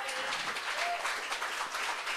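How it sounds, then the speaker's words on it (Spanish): A church congregation gives a steady round of applause, dense clapping sustained throughout at moderate level, with a faint voice briefly audible. "That's a good opportunity to give a hand offering to God."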